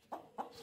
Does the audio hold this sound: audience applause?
no